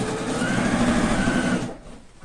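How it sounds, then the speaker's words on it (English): A sewing machine stitches patchwork quilt pieces together for an upcycled coat, a close, fast steady whirring run that stops abruptly near the end. "I'm just finding these two corners and then just starting sewing them together."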